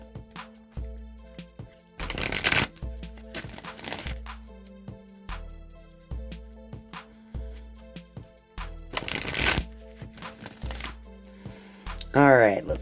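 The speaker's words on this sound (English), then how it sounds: "let me go ahead and shuffle the Wisdom of the Oracle deck" A Wisdom of the Oracle card deck is shuffled in repeated riffling bursts, close and crisp, separated by pauses, with a steady musical background throughout.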